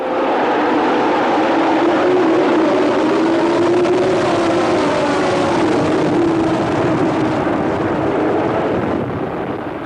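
Formula One racing cars at the 1978 Argentine Grand Prix roar past in a dense, sustained engine wail, loud and continuous with a slight pitch sweep, no voices audible.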